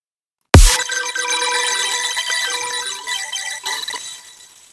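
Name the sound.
sped-up marimba loop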